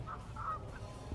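A goose honks twice in quick succession, nasal calls that are fairly faint and distant over a low rumbling background, with no speech.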